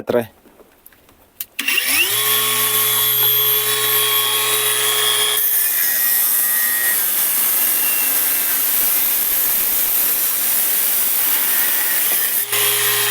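A Procraft AG125C cordless angle grinder cuts through 2 mm wall round steel pipe outdoors in snowy, frosty weather, a loud steady whine with a grinding rasp that runs for about eleven seconds after a brief quiet start, then stops.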